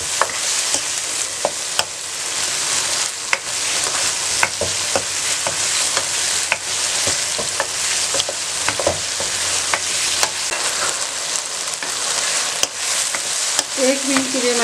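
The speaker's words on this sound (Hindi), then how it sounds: "तेज़ आंच पे आपने 1 मिनट के लिए मज़ीद इसको पकाना है।" Chicken and tomatoes frying hard in a pan over high heat, a steady loud sizzle with scattered crackles and pops and occasional stirring scrapes, no voices.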